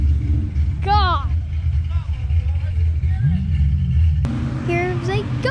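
Cars doing burnouts at a Fox-body Mustang gathering, a loud low engine roar with wheels spinning running throughout, while a voice and other people talk and exclaim over it.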